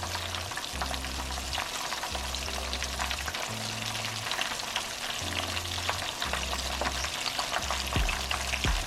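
Grease popping and sizzling steadily in a pan of frying mustard chicken, with dense crackle throughout and a low rhythmic hum underneath, close and fairly loud.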